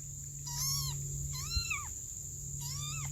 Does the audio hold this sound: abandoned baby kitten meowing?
yes